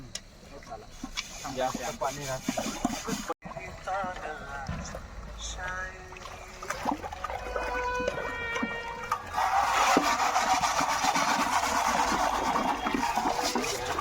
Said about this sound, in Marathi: स्वयंपाकाचे भांडे घासण्यासाठी आम्ही नाल्यावर आलो आहोत